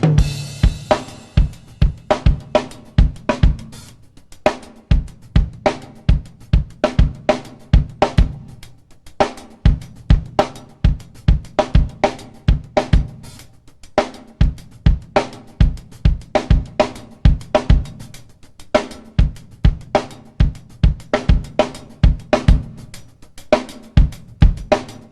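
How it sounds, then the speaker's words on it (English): A drummer plays a two-measure 4/4 groove on a drum kit, alternating between two hi-hats for a stereo effect over snare and kick. The pattern is busy and syncopated, loud and close, with no talking. "Again, using the 2 hi-hats, the stereo hi-hat effect."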